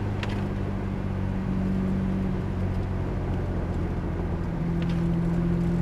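A Lamborghini being driven on a track, its engine giving a steady, loud droning hum that holds an even pitch for the whole stretch, with faint road and wind noise underneath.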